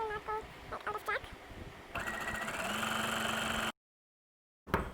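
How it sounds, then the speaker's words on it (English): A sewing machine stitching along a marked line runs as a steady mechanical whir for a couple of seconds, following some brief tonal sounds, then cuts to silence before resuming briefly. "make sure I'm stitching it on top of the line so that it will not go like out of track"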